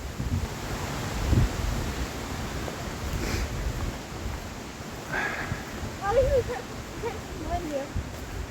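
Wind gusting across an exposed hilltop beside a cairn, a loud, continuous roar buffeting the microphone, with people talking faintly in places.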